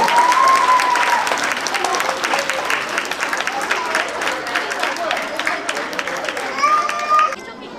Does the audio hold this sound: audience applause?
yes